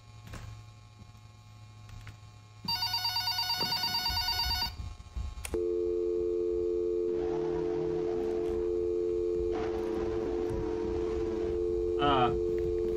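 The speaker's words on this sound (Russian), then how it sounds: "Телефон." A telephone in found-footage horror scene: a low steady hum, then a bright electronic ringing burst, followed by a sustained dial tone with scattered clicks and noises over it.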